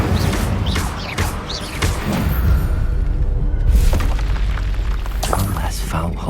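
Fiery spell blasts from the Hogwarts Legacy video game, with booming bursts and roaring whooshes layered over steady battle noise and shouted voices.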